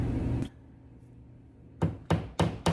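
A hammer strikes wood or a fixture four times in quick succession, sharp close knocks after a stretch of quiet room tone, during a home organizing and declutter job.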